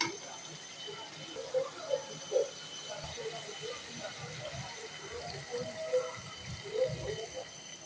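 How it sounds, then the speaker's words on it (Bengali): Water is poured into a pot of chicken curry whose spice paste is nearly done frying, with scattered splashing and sizzling bubbles over a steady kitchen hiss, moderately quiet. "পানি দিয়ে দেবো।"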